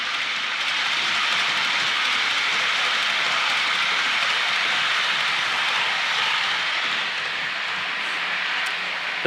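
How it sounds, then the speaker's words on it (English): Model railway train rolling past on a layout, a steady continuous rumbling whir with bright hiss that stays fairly loud and even throughout, without any talking over it. "as we wait for this train to go past"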